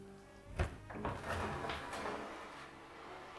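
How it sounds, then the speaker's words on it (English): A very stuck door is forced open in a house, with a heavy thump followed by scraping and creaking as it drags free, close and moderately loud, then fading into quiet. "Very stuck door."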